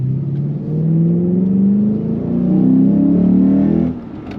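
A cold Lexus GS-F or RC-F engine with a crank pulley kit revs up, dips briefly, then climbs again in a loud, close whine before cutting off sharply near the end.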